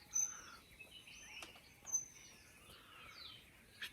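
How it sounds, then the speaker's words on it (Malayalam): Birds call in a forest near a treetop hut, giving faint, scattered chirps and short whistled notes at a distance over quiet background, with no voices. "പക്ഷികൾ കുറേ നിറയെ ഉണ്ട്"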